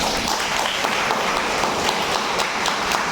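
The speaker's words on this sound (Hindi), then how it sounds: "थोड़ा ताली बजाओ" An audience claps together at a spiritual gathering at Shanti Sarovar in Raipur, Chhattisgarh, producing a steady, dense patter of many hands that holds evenly throughout.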